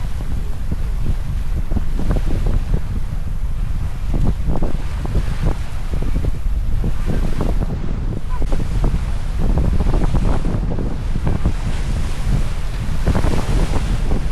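Strong wind of force 7 to 8 buffets the microphone at sea on the Bothnian Bay, with a constant roaring rush and water sloshing around a moving sailboat.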